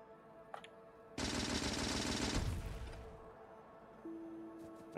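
Turret gunfire erupts in Factorio, a dense rapid burst of machine-gun shots lasting about a second before fading, with faint game sounds around it.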